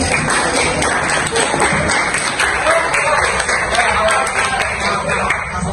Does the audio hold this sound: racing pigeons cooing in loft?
no